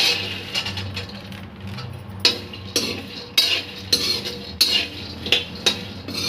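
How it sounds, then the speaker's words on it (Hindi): Peanuts roasting in a dry kadai while a metal spoon stirs them steadily, giving repeated sharp scrapes and clinks against the pan over a faint hiss, close and with no voices. "अब इसी कढ़ाई में हम मूंगफलियों को थोड़ा रोस्ट कर लेते हैं।"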